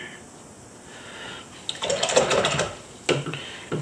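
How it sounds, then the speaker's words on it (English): A paintbrush is swished and tapped in a water cup while ink drawing, giving quick splashy clicks and rattles after a quiet start, with a final sharp knock. "Clean my brush so that it's all water, basically."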